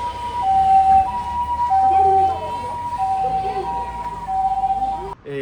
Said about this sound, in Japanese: 救急車が出動します。